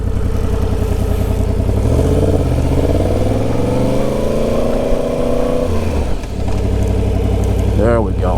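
A 1000cc motorcycle runs through emergency brake practice at low speed: the engine note climbs steadily under throttle, cuts off abruptly at the stop, then settles to a close idle before a short rev near the end.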